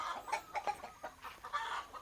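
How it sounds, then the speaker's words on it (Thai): Chickens cluck in the morning in short, busy bursts close by at a farm coop, overlapping one another in a quick, uneven rhythm. "เสียงไก่ก็ร้อง ตอนเช้านะครับ"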